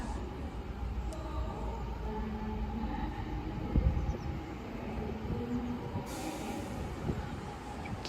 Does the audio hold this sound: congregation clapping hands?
no